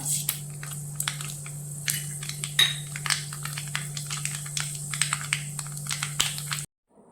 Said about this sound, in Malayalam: അതിലേക്ക് എണ്ണ ഒഴിച്ചിട്ടുണ്ട്. കടുക് ചേർത്ത് കൊടുക്കാം.